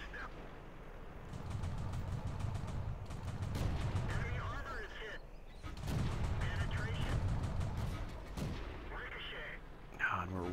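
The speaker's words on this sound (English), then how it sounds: "we're ricocheting on that tank destroyer" Shells striking and glancing off a tank destroyer in World of Tanks, sharp metallic impacts and game gunfire in repeated bursts over a steady low rumble of engines and battle noise.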